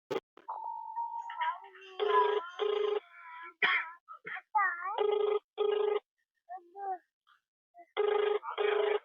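A telephone rings on a call in repeated paired bursts, clear and close, with short pauses and bits of voice between rings.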